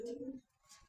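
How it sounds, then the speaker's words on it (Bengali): A domestic pigeon gives one short, low, soft coo close by, then falls quiet briefly. "কবুতরটা অনেক ভালো।"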